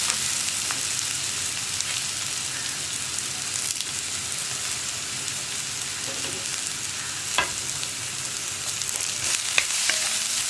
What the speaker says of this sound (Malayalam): സവോള ഒന്ന് ബ്രൗൺ ആയി വരുന്നത് വരെ നമ്മൾ ഇളക്കി കൊടുത്തുകൊണ്ടിരിക്കണം. അതുപോലെ തന്നെ നമ്മുടെ കറിവേപ്പിലയും നമുക്ക് ചേർത്ത് കൊടുക്കാം.